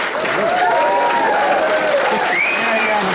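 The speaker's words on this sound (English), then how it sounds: "Great applause." An audience at a council AGM applauds with steady, dense clapping that holds for several seconds, with a few voices rising faintly over it.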